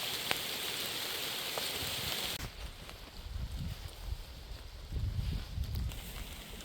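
Steady rain falls over an Alaskan swamp during a moose hunt, a constant close hiss that drops in brightness partway through, with occasional soft low thumps of handling beneath it.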